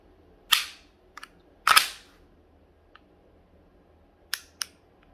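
Trigger of a WE Galaxy G Series Glock-style airsoft pistol being pulled, sharp close mechanical clicks and snaps in a few separate groups with quiet gaps between.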